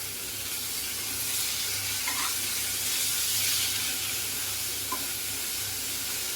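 Roughly chopped coriander leaves fry in a pan over a low flame for a paneer gravy, giving a steady, soft sizzle and hiss with faint stirring clicks throughout, and no talking.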